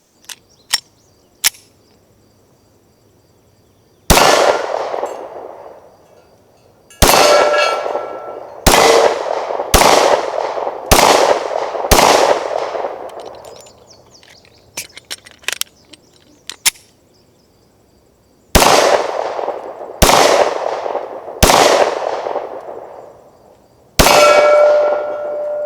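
A Glock 43 single-stack 9mm pistol fires at steel targets, with about a dozen loud, sharp gunshots each followed by a ringing metallic clang, spaced irregularly with pauses between strings of shots.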